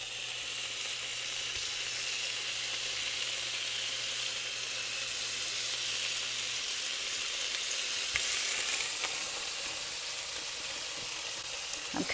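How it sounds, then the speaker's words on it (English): Six slices of bacon frying in a pan, a steady moderate sizzle and hiss with faint crackles continuing the whole time, no voices. "I'm cooking 6 slices of bacon"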